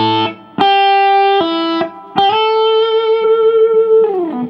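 Slow blues rock lick on a distorted electric guitar, a few sustained picked notes with a string bend rising near the end, played alone with no talking.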